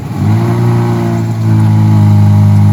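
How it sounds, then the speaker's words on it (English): A 2022 Range Rover Evoque's engine starts and settles into a loud, steady idle with a deep, droning hum that swells slightly partway through, heard up close. "The engine also, you know, here, I'll put a clip real quick of it starting."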